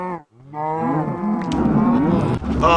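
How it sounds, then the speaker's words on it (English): Blocky Minecraft cows moo over and over in a crowded herd, long drawn-out lowing calls overlapping and close, loud and continuous with no talk. "Oh my god, there's so many cows."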